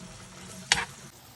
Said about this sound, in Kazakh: Тағы бір араластырып 5 минут қуыратын боламыз.